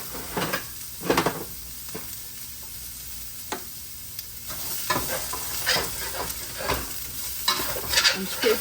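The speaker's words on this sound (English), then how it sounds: "I'm scraping all that delicious goodness off the bottom so they'll have some flavor." Red peppers and garlic sizzling in a pan as a utensil stirs and scrapes the pan bottom, giving a close steady hiss broken by irregular louder scraping strokes.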